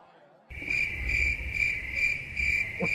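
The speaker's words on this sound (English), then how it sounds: "Cricket." A cricket chirps steadily and close, a rapid pulsing trill repeating about every half second after a sudden start, with no talk over it.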